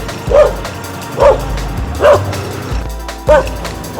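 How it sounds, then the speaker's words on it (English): A dog barks four times in evenly spaced single woofs, close and loud, on a street with light background noise. "Come on, scary dog."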